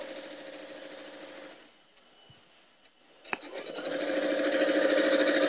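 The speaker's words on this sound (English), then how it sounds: "I'm just sewing down the one side, and then I'll add this strip" A sewing machine stitches quilt strips for a rail fence quilt, a fast steady mechanical whir that pauses briefly midway with a few small clicks, then resumes louder and continuous.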